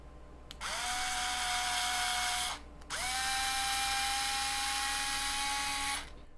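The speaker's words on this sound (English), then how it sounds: "So we're gonna have to drill that out." A power drill drilling out a hole in plastic on a Schumacher ProCat 4WD RC buggy whines in two sustained bursts, each a couple of seconds long with a steady high pitch, close up with a brief pause between.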